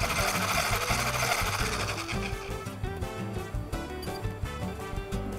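A motorized whirring drones steadily as egg whites are beaten until stiff for a fluffy two-egg omelette, the pitch shifting in short segments with no voices over it.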